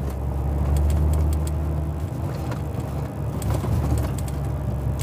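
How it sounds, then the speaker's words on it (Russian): An empty truck pulling a Dutch trailer drives over bumpy cobblestones, making a continuous loud low rumble with rattling and jolts throughout and no talking. "Брусчатка, капец, какая прыгучая у них здесь. Особенно на пустой машине."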